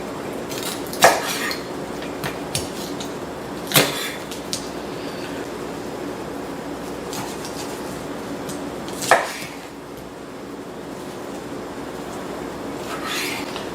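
A knife cuts through large raw chicken wings, separating tips and joints on a board, with a few sharp clacks of the blade against the surface over a busy kitchen background.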